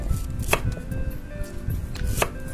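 Ginger is sliced lengthwise with a knife for a beef curry, giving a few sharp, close knife-on-board chops at an uneven pace over a quiet background, with no voices.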